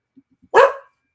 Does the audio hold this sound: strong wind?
no